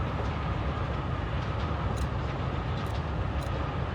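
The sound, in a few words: train from video game Forgotton Anne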